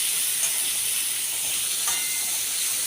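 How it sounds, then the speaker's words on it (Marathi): Onions frying in a pan, a steady hissing sizzle that holds at an even level for a few seconds with faint stirring clicks. "हे बघा चांगले मी कांदे गुलाबी रंगावर येईपर्यंत चांगले भाजून घेते."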